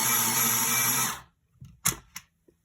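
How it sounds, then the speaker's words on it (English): An electric pencil sharpener, the 10-win, grinds a white Arrtx colored pencil with a close, steady motor whir for about a second, then stops, followed by a few faint clicks and taps. "I've just used my electric sharpener, the 10-win"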